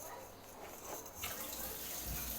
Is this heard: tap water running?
yes